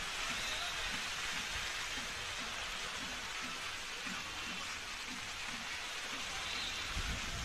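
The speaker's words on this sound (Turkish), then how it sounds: "şu anda rahmet yağıyor" Steady rain patters down at an outdoor karakucak wrestling event, a soft continuous hiss with faint background murmur and occasional low knocks.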